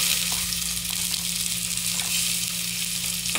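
Ginger, garlic and onions sizzle in a hot pan for chicken tinola, a steady, dense frying hiss that holds close and even throughout with no talking.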